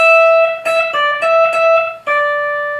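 Guitar phrase played without a slide, about six distinct plucked notes with stepped pitch changes rather than glides, each note ringing clearly and alone at moderate loudness.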